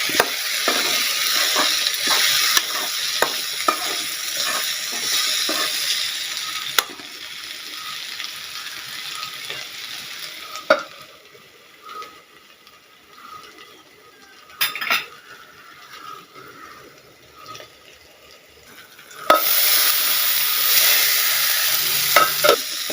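Koorka (Chinese potato) stir-fry with crushed kanthari chillies and curry leaves cooking in a pan, with repeated spatula scrapes and clinks over a sizzling hiss, then a quieter stretch before the frying noise rises again.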